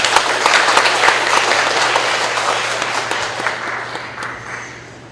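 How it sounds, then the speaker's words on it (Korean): A church congregation at an inauguration worship service gives warm, sustained applause welcoming a pastor, a thick wash of many hands that gradually thins and fades, with a low steady hum in the room underneath. "다 같이 뜨거운 박수로 우리 목사님 환영해 주시기 바라겠습니다."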